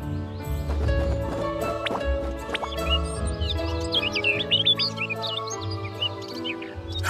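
Video-game birds chirp and tweet in quick, bright bursts over a busy layer of tonal game sounds. The calls grow denser toward the end.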